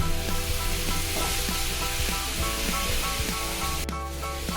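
Carrot halwa stirred in a hot pan after cardamom powder is added: a steady sizzle with soft, repeated scraping strokes throughout, no voices.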